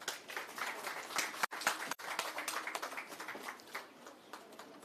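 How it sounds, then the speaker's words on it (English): An audience at a deputy transport minister's visit to Groblers Bridge claps in a steady, dense round of applause, fairly close, with two brief cutouts midway. "Again, a round of applause."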